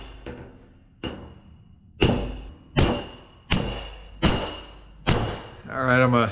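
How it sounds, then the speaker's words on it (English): Heavy hammer driving sheet metal up over a spoon dolly, six or seven sharp ringing blows at roughly even intervals, close and loud, ending in a brief metallic scrape. "I have to use a heavy hammer, not going to just use a regular little body hammer because this has a lot of weight to it."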